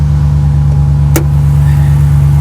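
A 4.7-litre Hemi V8 pickup truck with its exhaust dumped underneath runs with a loud, steady low rumble close by, broken by one short sharp click midway.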